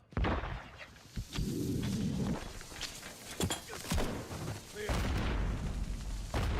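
A grenade explodes during a Modern Warfare 3 campaign firefight, heard as a heavy low boom among scattered gunfire and impacts, with talk mixed in over the game audio.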